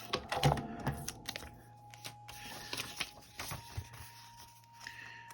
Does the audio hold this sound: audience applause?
no